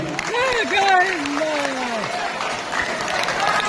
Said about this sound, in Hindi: एक बार जोरदार ताली से।